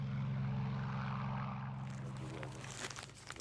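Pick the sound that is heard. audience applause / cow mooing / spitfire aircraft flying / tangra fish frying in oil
spitfire aircraft flying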